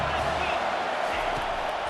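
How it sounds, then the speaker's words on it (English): A simulated stadium crowd roars steadily behind a defense on third down in EA Sports College Football 25, with dense, continuous cheering and a rising wash of noise. "Decibels rising as the crowd gets behind this defense on third down"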